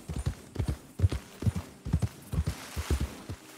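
Horse hooves clip-clop on the ground in Red Dead Redemption 2 on PS4 Pro, a quick, steady four-beat rhythm of close, moderately loud hoofbeats with no talking.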